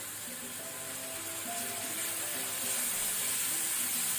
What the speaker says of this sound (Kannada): ಇದನ್ನೀಗ ನಾವು ಸ್ವಲ್ಪ ಆನಿಯನ್ ಟ್ರಾನ್ಸ್ಲೂಸೆಂಟ್ ಆಗುವ ತನಕ ಫ್ರೈ ಮಾಡ್ಕೋಣ